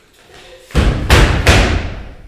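Three heavy knocks land on a door in slow succession during a stage performance of Hernani, loud and booming, each followed by a short resonant decay.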